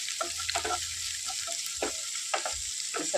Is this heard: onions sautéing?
yes